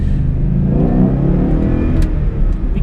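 A stock 2012 Ford Mustang GT V8 revs up close and loud in a deep, continuous rumbling roar that holds steady through its rise, with no voices over it.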